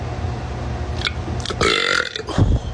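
A person lets out a loud burp, then a second, deeper one, with faint background noise around them.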